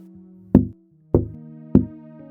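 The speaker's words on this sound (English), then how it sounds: "I heard someone knock on my window 3 times slowly." Three slow, loud knocks on a window at night, evenly spaced about half a second apart, each a sharp woody thud, with a low steady hum in the background.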